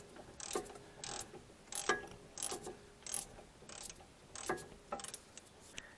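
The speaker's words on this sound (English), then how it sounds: "How long do you want me to record you turning bolts?" A ratchet clicks through repeated strokes while bolts are turned on the front brakes of a Mercedes C300. The rhythmic ratcheting sounds close and fairly quiet, with no talking.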